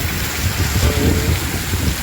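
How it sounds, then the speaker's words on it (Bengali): Heavy rain pours down without a break, and the dense, loud hiss stays constant throughout. A low rumble sits underneath it, and no voices are heard. "এত ভারী বর্ষণ বৃষ্টি হয়েছে"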